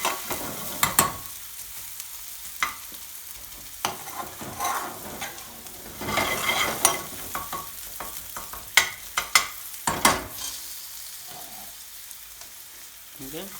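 Onion frying in a pan as the base for a hot chicken and potato Madras curry, a steady moderate sizzle broken by several louder stirring scrapes and clatters, with no talking.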